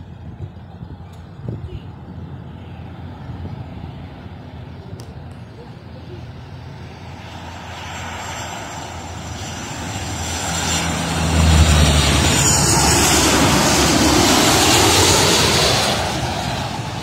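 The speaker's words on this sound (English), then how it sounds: "Hard landing!" A fixed-wing airliner touches down hard at KLIA airport, its engine roar building steadily from a distance to a loud, sustained rumble while people talk nearby.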